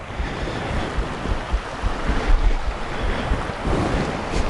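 Water runs steadily and fairly loudly outdoors in snowy winter conditions, a continuous broadband rush with gusty wind buffeting the microphone and no voices.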